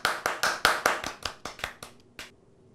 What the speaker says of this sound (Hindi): अवतार के लिए तालियां बजाओ